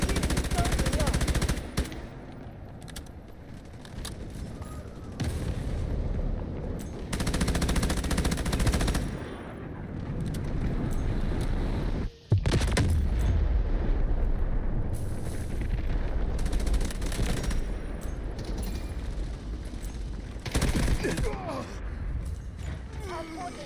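Gunfire and guided missile launches in the video game Delta Force: bursts of rapid automatic fire, heavy booming blasts and launch whooshes in a loud, dense battle mix, with voice lines and talk over the action.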